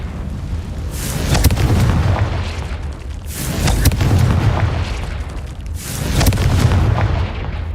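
Fire spell explosions in Hogwarts Legacy, several loud booming blasts in a row, each a deep rumbling burst with a crackling tail, spaced a couple of seconds apart.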